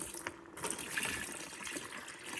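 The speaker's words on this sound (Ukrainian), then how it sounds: "Холодної вже додаю води, тут гаряче вже не треба." Cold water poured into a copper sulfate mixture, a quiet continuous splashing trickle, faint and close, with no talk.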